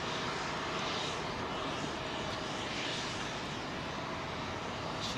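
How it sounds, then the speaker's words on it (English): An Avro Lancaster bomber flying near Heathrow gives a faint, distant, continuous engine drone with a gently swelling whoosh, heard alone without talk. "Lancaster Airborne heading for Derby"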